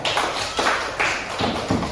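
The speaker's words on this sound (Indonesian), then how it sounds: "tepuk tangan untuk kalian semuanya" Applause for groups of students in an Indonesian religious education classroom, a steady patter of clapping hands in short rhythmic waves, close and fairly loud, with no voices.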